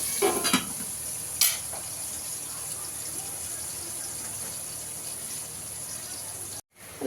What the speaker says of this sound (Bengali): আলুগুলো আমার ভাজা হয়ে গেছে, এবার তুলে নেবো আলুগুলো। একটু লাল করে ভেজে নিয়েছি আলুগুলো।